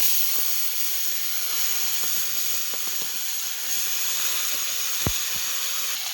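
Pieces of fish fat dropped into hot oil seasoned with nigella seeds, giving a steady broadband hiss and sizzle with a few faint pops and clinks, close and continuous.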